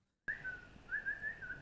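After a brief silence, a person produces a thin, wavering whistle that breaks in and out, sounding weak and airy, close to the microphone with no talking.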